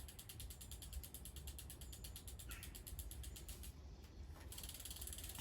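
Tension adjuster on a Saris M2 smart trainer being turned, a rapid even run of faint ratcheting clicks close by, steady throughout.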